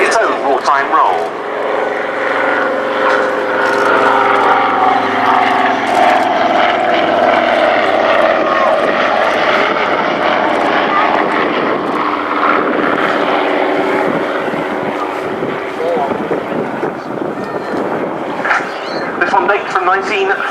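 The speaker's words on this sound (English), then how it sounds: "Extremely attractive pairing here. The lead aircraft, the Dragon Rapide, has its roots in the de Havilland family of small airliners" A de Havilland Dragon Rapide and an Avro Anson fly past at an airshow, their piston propeller engines droning loudly in a long steady roar that slowly shifts pitch and fades, while a commentator talks over them.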